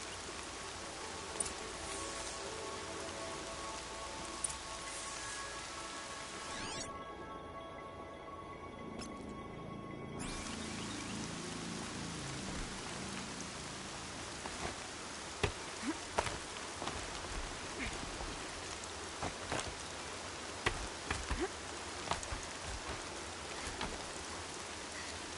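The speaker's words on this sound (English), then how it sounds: "Rain's not so bad." Steady rain falls in the video game Horizon Zero Dawn, a continuous soft hiss with scattered droplet ticks and no talk over it.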